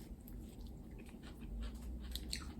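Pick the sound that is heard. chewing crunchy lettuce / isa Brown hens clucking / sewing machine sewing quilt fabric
chewing crunchy lettuce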